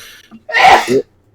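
A single loud sneeze bursts out close by, a quick two-part explosive blast that ends abruptly.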